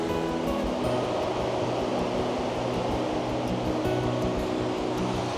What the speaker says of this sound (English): right down there is the waterfall